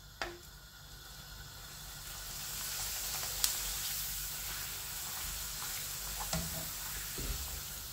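A poppadom fries in hot oil with a steady, bright sizzle and hiss that swells and holds, broken by a few faint clinks and scrapes from utensils, heard close with no talking.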